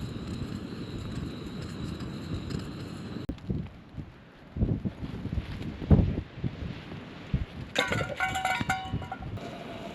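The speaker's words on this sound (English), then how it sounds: "Even though it's very windy, I'm still able to cook outside." Strong gusty wind at a remote mountain lake in the Carneddau, North Wales buffets the microphone in loud roaring surges that drop and return in bursts, with no talk.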